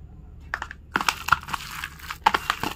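Shredded cabbage mixed by hand with salt, turmeric and chopped green chillies, giving a close series of wet crunching and squishing bursts in an uneven rhythm, with no talk.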